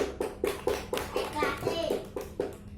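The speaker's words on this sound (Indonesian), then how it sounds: "tepuk tangan" Children in a classroom clap their hands in a steady, rhythmic pattern of about ten beats, close and moderately loud, with a few young voices mixed in.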